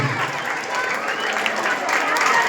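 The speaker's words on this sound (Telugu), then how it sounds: "మరొకసారి గట్టిగా చప్పట్లు ప్లీజ్ థ్యాంక్ యూ" Audience applause at a Telugu movie event held by an education society in Eluru, a steady wash of clapping from a crowd filling the whole stretch at even loudness.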